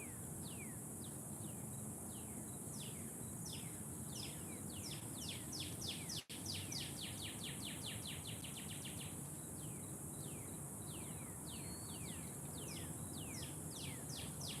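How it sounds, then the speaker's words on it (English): Birds chirp repeatedly in quick, thin calls, steady and faint, over a constant hiss of outdoor background noise. "Fucking birds."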